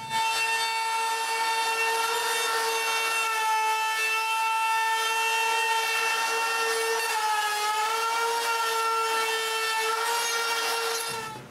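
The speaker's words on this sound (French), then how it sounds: "j'utilise une mèche à affleurer pour couper l'excédent" A router fitted with a flush-trim bit trims excess formica laminate on a water cabinet, a loud steady high-pitched whine with a slightly wavering tone, running continuously and alone before cutting off at the end.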